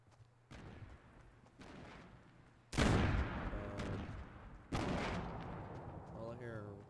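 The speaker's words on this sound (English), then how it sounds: "All I hear are lots of explosions." Explosions and gunfire in a Fortnite solo match: several loud, sharp blasts with long rumbling tails recur through the stretch, the heaviest near the middle, and voices talk faintly beneath.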